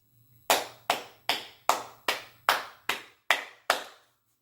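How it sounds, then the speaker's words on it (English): Hands clap nine times in an even, steady rhythm, each clap sharp, close and isolated, with silence between and no crowd. "I'm giving you a round of applause"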